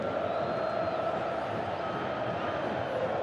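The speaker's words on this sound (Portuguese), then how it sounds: "E a torcida vivendo um êxtase nesse Maracanã lotado." A packed football crowd in the Maracanã stadium roars in a steady, dense wash of cheering and shouting that holds at a distance for the whole stretch without a break.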